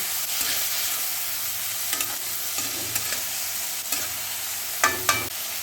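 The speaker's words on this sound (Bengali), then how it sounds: "এবারে দিয়ে দিচ্ছি কাঁচা লঙ্কা এইবারে দিয়ে দিচ্ছি আমি টমেটো এবার সবগুলোকে আমি সুন্দর করে একটু কষিয়ে নিচ্ছি" Green chillies and tomato sautéing in a hot pan, giving a bright continuous sizzle with a few sharper spoon scrapes and clinks standing out, close and fairly loud, with no voices.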